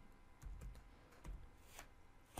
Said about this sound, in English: as soon as you start typing like VSFTPD